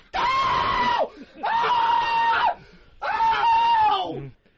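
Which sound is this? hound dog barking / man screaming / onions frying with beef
man screaming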